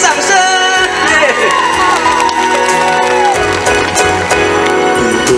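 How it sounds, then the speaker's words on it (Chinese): A concert crowd in a park in Yonghe, New Taipei cheers and whoops steadily for about five seconds, a loud, dense wash of voices with some shouting and music-like tones running underneath. "给自己掌声"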